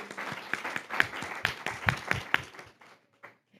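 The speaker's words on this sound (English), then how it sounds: "Let's give her a round of applause." A small audience at a school board meeting claps briefly, a short scattered round of sharp hand claps that thins out and fades within a few seconds.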